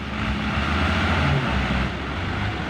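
A farm tractor grinds through soft, waterlogged mud with a heavy, steady engine drone that stays loud and close throughout, without a break.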